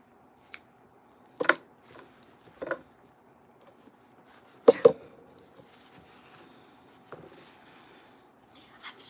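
Scissors cut through rope in a few separate crisp snips, close and sharp with quiet pauses between them, in a hushed craft setting with no talking.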